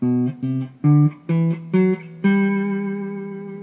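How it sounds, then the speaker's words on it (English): Electric guitar plays a seven-note ascending G Ionian scale, each note clearly picked, with the final note ringing out and slowly fading. "So the G Ionian mode would sound like this"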